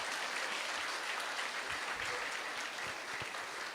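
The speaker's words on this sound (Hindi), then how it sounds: "ताली बजाने की बात है।" Indoor audience at a talk on happiness claps, a dense, steady patter of many hands sustained throughout at moderate distance, with faint low murmurs underneath.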